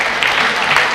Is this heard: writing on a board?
no